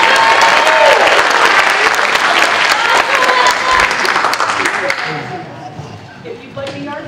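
Dense, loud applause fills a school hall at a sixth-grade academic honors ceremony, with some voices mixed in, before tapering off into scattered claps and room chatter.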